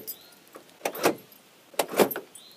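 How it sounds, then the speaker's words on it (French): Central locking on a 1999 Citroën Saxo worked with the key, giving two close mechanical clunks about a second apart, each a quick cluster of latch thuds. "Et là, ça va descendre ce petit bitonio là, et ça va descendre les quatre, et ça va fermer toute la voiture en fait."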